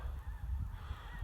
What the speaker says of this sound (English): A lot of geese are flying there.